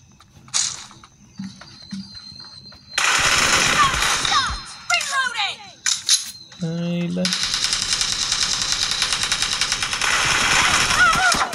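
Gunfire in a shooting video game: short scattered shots early on, then loud, sustained rapid-fire bursts that run to the end.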